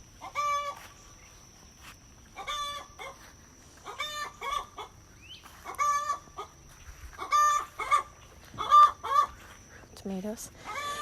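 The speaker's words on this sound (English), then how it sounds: "that noise you hear in the background is my chicken laying an egg" A hen in a home garden gives a loud egg-laying cackle, with repeated bursts of harsh squawks every couple of seconds, close by and alone.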